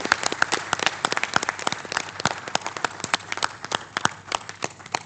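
An audience applauds at a ceremony launching a federation of social enterprises in Congo: dense, crisp clapping from many people, close and continuous, with sharp individual claps standing out.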